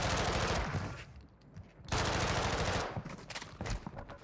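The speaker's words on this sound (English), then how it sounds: "We got the guy shooting at us across." Automatic gunfire in the Warzone video game, with loud, close bursts of rapid shots separated by a short lull and then a longer sustained volley, with no talk.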